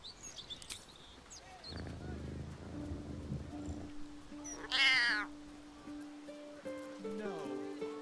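A cat meowing in Baldur's Gate 3: one loud, close, drawn-out meow in the middle, with a narrating voice before it and ambient game music throughout.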